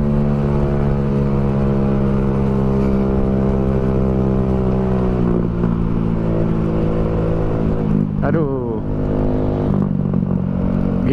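Standard, non-big-bike motorcycle ridden at night on the way to Kuningan, its engine droning steadily and loud close up, with a brief rise and fall in revs near the end.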